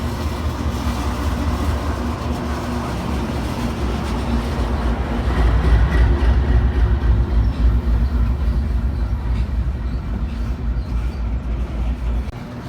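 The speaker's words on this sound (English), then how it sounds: "this westbound coal train heads out of town" An empty westbound Union Pacific coal train rumbles steadily out of Jefferson City, Missouri, its cars rattling and clattering nearby. The roar swells midway and continues without a break.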